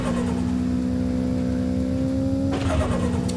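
A turbocharged Toyota Trueno AE86 engine in a drag racing video game hums at a steady loud idle, then rises in pitch as it revs partway through.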